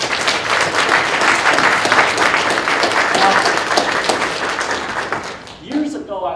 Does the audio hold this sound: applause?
yes